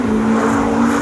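Cars making acceleration sprints on a blocked-off road at a night rally event, heard from the roadside as a steady engine drone with a sustained tonal hum, continuous and moderately loud throughout.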